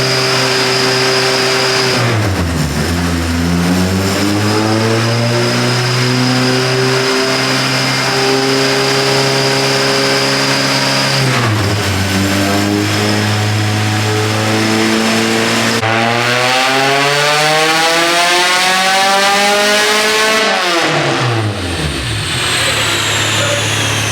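Honda K24A engine on a dyno, loud and close, repeatedly revving up through long sustained pulls with the pitch climbing, dropping back between runs, a voice faintly under the roar.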